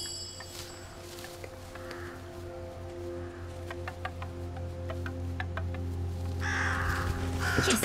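Crows caw in the video game Röki, harsh calls repeated over a low steady ambient drone, with scattered ticking clicks and a burst of noise near the end, and no voices.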